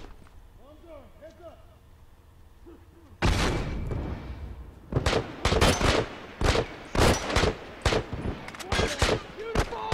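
Multiplayer gunfire in The Last of Us erupts abruptly after a quiet stretch, loud rapid bursts and single shots cracking repeatedly, with someone talking over the start.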